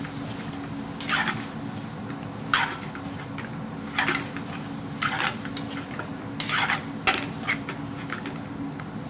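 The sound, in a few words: stirring spices and turmeric in a cooking pot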